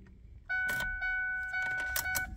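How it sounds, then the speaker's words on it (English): A 2005 Ford Focus ST fuel pump primes with a steady electric whine that starts up and hums for a couple of seconds, with a few clicks and rattles around it in a quiet car. "The fuel pump came on, so I know I'm getting fuel to the car."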